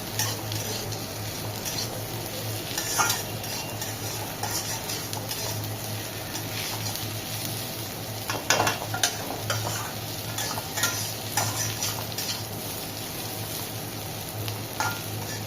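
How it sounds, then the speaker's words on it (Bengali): Sliced bitter gourd (karela) fries in oil with poppy seeds in a pan, giving a steady, even sizzle with light spatula stirring and soft crackles, close and continuous with no talk. "এই করলাটা ফ্রাই করতে প্রায় 10 মিনিট মতো লাগবে।"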